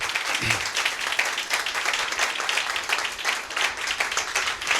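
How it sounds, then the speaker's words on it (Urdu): A church congregation claps at a Sunday sermon, a sustained lively round of many hands with a brief low voice near the start. "ہم اس سے زیادہ زوردار تالیاں خدا یسوع مسیح کے لیے بجائیں گے"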